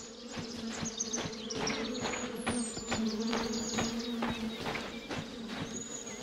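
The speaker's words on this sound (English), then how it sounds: "I hear the bees. I don't see them." Bees swarming up in a tree beside a path give a steady, dense buzz that runs throughout, with faint bird calls scattered over it and no speech.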